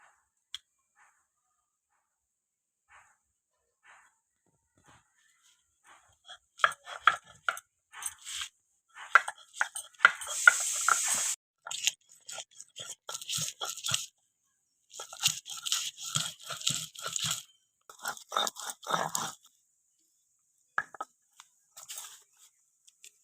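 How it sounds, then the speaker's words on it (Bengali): Garlic being ground into a paste, likely on a traditional grinding stone, for a paneer chana masala: a series of crunching, scraping strokes in bursts, fairly close, with pauses between passes. "রাধা রসুনটা বেটে নেবো একটু"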